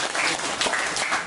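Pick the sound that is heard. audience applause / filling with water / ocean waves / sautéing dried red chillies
audience applause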